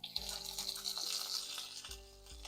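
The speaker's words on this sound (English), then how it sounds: "Let's saute these onions" Sliced onions frying in a pan for a tomato curry, a soft continuous sizzle close by with a low hum underneath.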